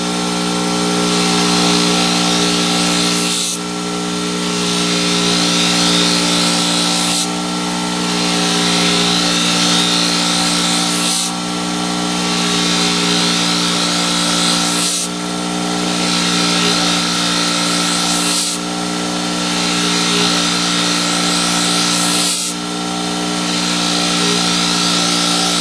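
A power tool sands and polishes a stainless steel workpiece, a loud steady grinding whir broken by brief dips roughly every four seconds as the tool is pulled back and passes repeat, with no talking.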